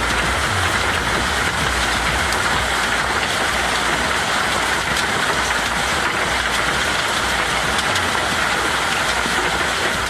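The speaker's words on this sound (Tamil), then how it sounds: "ராஜஸ்தானில் திடீரென கொட்டி தீர்த்த ஆலங்கட்டி மழையின் காட்சிகள் தான் இவை." A sudden hailstorm pours down across Rajasthan districts such as Sri Ganganagar, Jaisalmer and Bikaner, giving a dense, steady roar of hail and rain hammering surfaces without pause, close and loud, with no voices.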